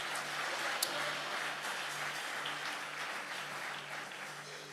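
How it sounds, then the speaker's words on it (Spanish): A church congregation applauds the Lord during an evangelistic sermon, a steady wash of many hands clapping together at moderate distance, sustained and even throughout with no talk over it. "Dale un aplauso al Señor por eso"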